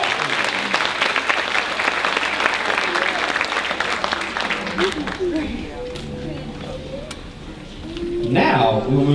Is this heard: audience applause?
yes